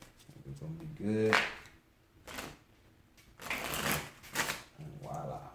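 Tarot cards are riffled and shuffled in a few quick bursts, with a person speaking briefly between the shuffles.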